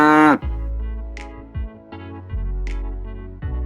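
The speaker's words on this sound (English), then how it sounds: "Nice one, it's a cow." A cow gives a loud, close moo at the start, followed by several lower, shorter lowing calls with brief pauses between them.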